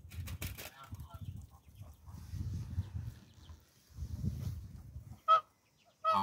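Domestic geese tending goslings, a flock giving low nasal honks and murmuring calls in close succession, with a couple of sharper honks near the end, fairly quiet overall.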